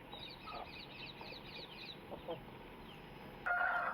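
A rooster and chickens cluck softly in quick repeated notes at a poultry farm in Kadapa, with a louder squawk near the end over a steady background noise.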